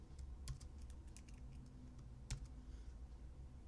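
Typing on a computer keyboard while writing C# code, a few scattered quiet key clicks with one sharper keystroke over a low steady room hum.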